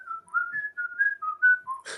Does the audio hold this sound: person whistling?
yes